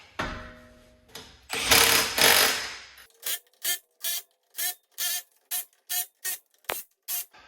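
An impact wrench fires a long spraying burst as a Nismo wheel goes back onto a Nissan Z33 car. A run of about a dozen short, evenly spaced mechanical buzzes follows, close and distinct.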